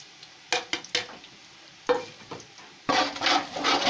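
Whole cloves, bay leaf, black cardamom and cinnamon hitting hot oil in a pot for beef yakhni pulao, with a few sharp stirring scrapes followed by a loud, steady sizzle of frying spices.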